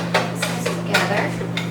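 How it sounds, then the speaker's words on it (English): Homemade soap mixture being stirred in a pot, a few scraping, clinking strokes against the container over a steady low hum, fairly close and moderately loud. "mix this together"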